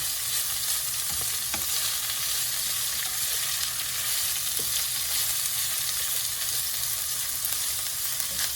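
Shrimp and pre-cooked green beans sizzle steadily in a hot pan, a continuous loud frying hiss with occasional stirring scrapes throughout.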